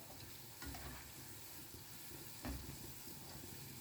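Bread gulab jamun pieces deep-frying over a low flame until golden, a steady soft sizzle with a couple of brief stirring clatters, close and alone with no voices.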